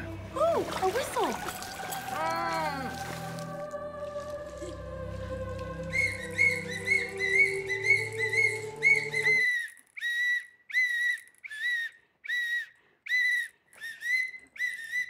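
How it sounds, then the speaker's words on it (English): A series of short, sharp whistle blasts repeated in a steady rhythm, coming after a stretch of music and splashing water. "Ooh, a whistle."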